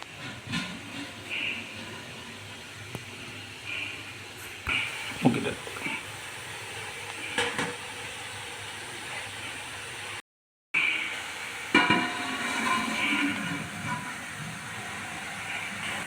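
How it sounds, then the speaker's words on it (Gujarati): Gujarati idada batter steaming in a steamer gives a steady, moderate hiss of escaping steam with a few faint clicks, broken by a moment of silence partway through before the hissing resumes. "હવે ટાઈમ થયો છે સ્ટીમ કરવાનો।"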